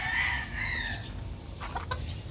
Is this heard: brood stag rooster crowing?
yes